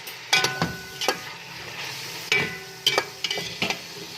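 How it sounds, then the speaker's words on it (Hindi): About 1 kg of chicken cooking on medium flame in a pan with roasted korma masala and garam masala, a soft steady sizzle broken by several sharp scraping stirs and clanks of a spoon, close and without talk. "अब ऐड करेंगे चिकन जो मैंने 1 kg लिया था। तो मीडियम फ्लेम पे इसे 2 मिनट के लिए कुक करेंगे।"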